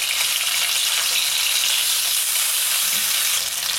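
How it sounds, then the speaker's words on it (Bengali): Bhetki fish pieces fry in a pan just after being flipped, a loud, dense, unbroken sizzle close by with no voices. "মাছগুলোকে একটু উল্টে দিচ্ছি। একটা পাশ হয়ে গেছে ভাজা।"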